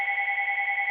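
A mobile phone rings steadily and close by for about a second, an electronic two-tone warble that pulses quickly, with no other sounds around it.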